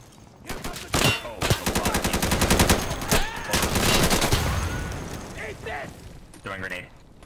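Insurgency firefight: bursts of rapid automatic gunfire and heavy booming blasts, including RPG fire, in loud overlapping volleys over several seconds, with shouted voices mixed in.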